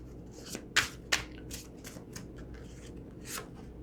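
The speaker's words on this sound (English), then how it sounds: "Some of these bigger decks are harder for me to shuffle, but I'm getting there with my hands." Large deck of tarot cards being shuffled by hand: a few crisp riffling bursts and soft rubbing card sounds, close and fairly quiet, with no talking.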